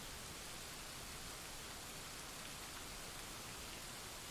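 Steady, dense rain falls as an even hiss with no breaks, soft and continuous, with no voices.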